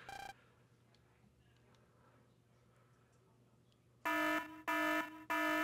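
A loud electronic alarm from the Mega Man Star Force video game blares in one short burst, then after a quiet gap sounds three rapid repeated pulses.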